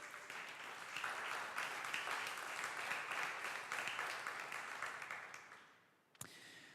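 Congregation applause fills a church service, a broad sustained clapping across most of the moment before it fades out quickly near the end.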